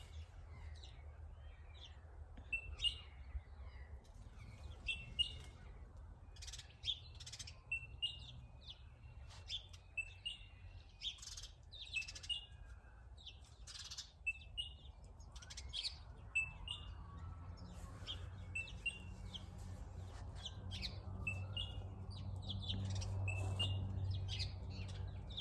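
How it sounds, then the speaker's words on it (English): A red parrot calls from a tree outdoors, giving repeated sharp chirps and squawks at a moderate distance over a steady low background rumble, with other birds tweeting around it. "That's a parrot up in the tree. It's a red parrot."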